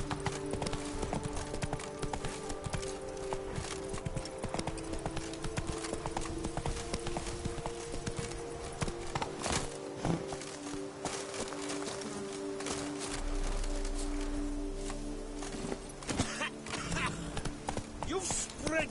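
Horse hooves clip-clopping in a video game, a steady rhythmic gait under game sounds, with a voice talking over it at times.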